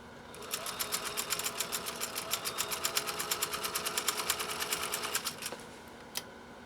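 A 1930s GE Model A sewing machine runs with a steady, fast rhythmic ticking of stitches, smooth and fairly quiet, stopping near the end followed by one isolated click.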